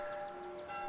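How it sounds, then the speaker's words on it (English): Church bells ring faintly in a village, a soft, distant metallic tone with overlapping chimes over a quiet background, short and without speech. "Bells?"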